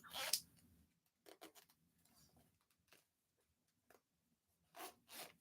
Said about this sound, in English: It's not easy to unzip.